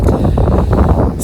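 Strong wind buffets an outdoor microphone during garden planting, producing a continuous low rumble with gusty surges and no clear voices.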